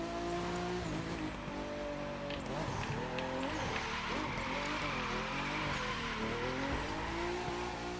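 Tires squeal through a long drift in The Crew 2 racing game, the engine note rising and dipping with throttle and steering, sustained and loud with no pauses across the whole stretch.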